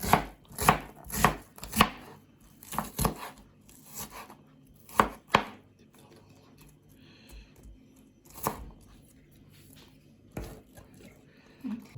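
An onion is chopped finely with a knife on a board in irregular bursts of quick, sharp taps, close and crisp, with short pauses between runs.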